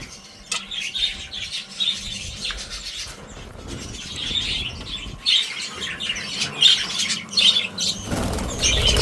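Pet birds feeding on scattered grain, with repeated bursts of flapping wings close by, mixed with short chirps and squawks and soft rubbing sounds between the flutters.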